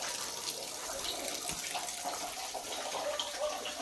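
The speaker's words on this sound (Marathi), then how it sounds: "तिकडे नळ पण चालू आहे." Water runs steadily from a household tap fed directly from a filling storage tank, a continuous close hiss without pause and no talk over it.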